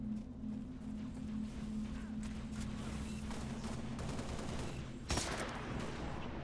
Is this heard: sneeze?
no